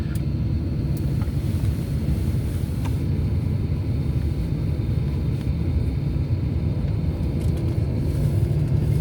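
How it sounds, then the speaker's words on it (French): A steady, loud low rumble of an airplane engine fills the cabin during takeoff, constant and unbroken with no voices. "préparez-vous pour le décollage"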